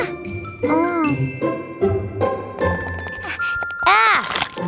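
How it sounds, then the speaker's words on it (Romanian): A small bell jingles repeatedly in a children's cartoon, bright tinkling rings that swell into a louder flurry near the end amid cartoon voices and sound effects. "Iată, aici este clopoțelul tău."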